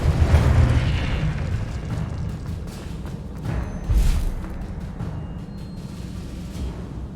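A Confringo blasting spell detonating in Hogwarts Legacy combat, heavy booming game audio with a loud thump partway through amid steady low rumble and scattered impacts.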